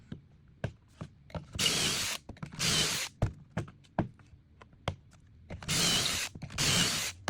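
Pocket-hole drilling into plywood panels for cabinet stretchers, using a pocket hole jig: four loud, steady drill bursts in two pairs, separated by sharp clicks and knocks as the bit and jig clamp are repositioned.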